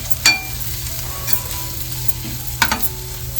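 Homemade turmeric and spice masala being stirred into onion-tomato gravy for a spicy crab curry, giving a steady close sizzle with a few sharp scraping clicks of the spoon against the pan.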